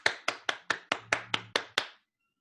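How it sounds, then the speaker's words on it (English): Applause for speaker Carlos Fernandez comes across as about nine evenly spaced, crisp claps from a very small group, ending abruptly into silence. "Let's have a big round of applause for Carlos Fernandez."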